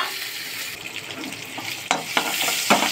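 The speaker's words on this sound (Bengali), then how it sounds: "তো টমেটোটা একটু ভাজা ভাজা হয়ে গেছে।" Tomato fries in oil with bay leaf, cinnamon and cardamom in a steady close sizzle, with several sharp spatula scrapes and taps while it is stirred toward the end.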